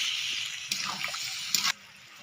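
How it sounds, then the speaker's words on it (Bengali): A bowl of water is poured into a Bengali mixed vegetable curry, giving a close splashing, trickling pour with two brief louder bursts and no speech. "তো আমি এর মধ্যে দিয়ে দেবো 1 বাটি জল।"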